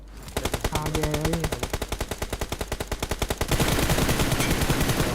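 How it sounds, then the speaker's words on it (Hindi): A UMP submachine gun fires in the BGMI video game in rapid, evenly spaced automatic bursts, loud and close, with heavier overlapping fire joining near the end. "कहाँ से चल रही है इसकी यूएमपी बढ़िया इतनी"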